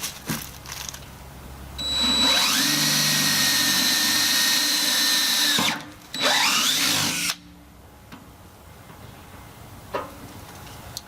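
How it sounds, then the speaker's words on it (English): A power drill whines loudly in two long bursts with a brief pause between, drilling out dimples on a John Deere 1025R tractor bucket, then cuts off, followed by quiet shop noise. "we're going to drill these dimples out"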